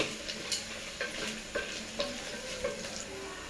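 Onions with curry leaves and chana dal sautéing in a pan for wheat rava upma, a steady sizzle broken by regular spatula scrapes about every half second.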